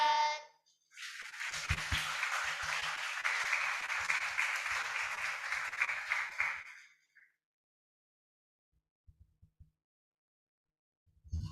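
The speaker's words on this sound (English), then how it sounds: "another round of applause for SD Kristen Betel Sulung 3" An audience at a school inventors' presentation event claps after a student team finishes, a dense burst of applause lasting several seconds before fading into silence with a few stray claps.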